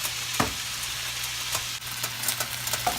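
Ground turkey and vegetables fry in a pan with no added grease, giving a steady close sizzle throughout, broken by a few scraping stirs and soft clatters.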